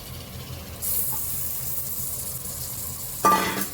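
Prawns marinated in salt and turmeric hit hot oil and masala for a prawn biryani, setting off a sudden bright sizzle that holds steady, and a louder burst of spitting comes near the end.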